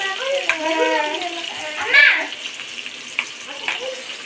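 Onions fry in a pan for Chettinad-style cooking, a soft sizzle with occasional stirring clinks running steadily under a voice talking close by.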